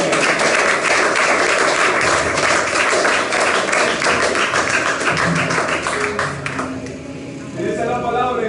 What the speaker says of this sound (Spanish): ¿Cuánto le damos un aplauso?